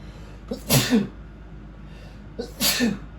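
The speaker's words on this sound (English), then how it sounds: "Why did I sneeze?" Two sneezes, each a breathy intake then a sharp burst, about two seconds apart, close and fairly loud.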